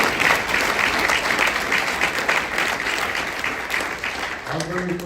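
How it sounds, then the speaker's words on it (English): An audience claps steadily at a gathering honoring a group of gentlemen, a dense loud round of applause that carries on throughout, with a voice starting to speak near the end. "give them a round of applause"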